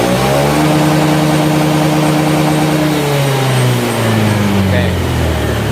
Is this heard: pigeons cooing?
no